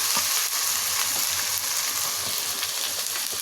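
Ginger-garlic paste sizzles steadily in hot oil, a dense, close, continuous frying hiss with faint crackles and no voices.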